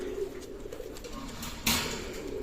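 A Pakistani running pigeon coos softly and low, its purring calls steady over background hiss, with one brief louder broadband rustle partway through.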